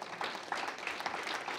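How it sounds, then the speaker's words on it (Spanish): Faint, brief applause from a church congregation, soft scattered clapping heard at a distance and quiet overall. "Denle un aplauso al Señor"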